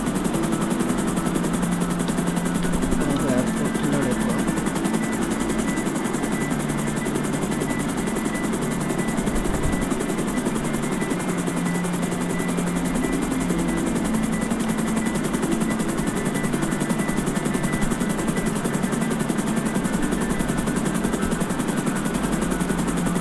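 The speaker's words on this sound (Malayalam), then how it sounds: "നമ്മൾ ഹെലികോപ്റ്ററൊക്കെ ഓടിക്കാൻ പഠിച്ചു" Helicopter in the video game GTA 5, a steady loud rotor drone with a low throbbing engine hum running continuously throughout with no talk.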